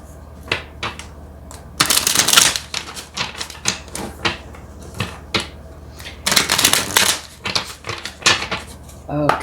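Tarot cards riffle and snap as a deck is shuffled, with bursts of crisp flutter and scattered taps against a steady low hum.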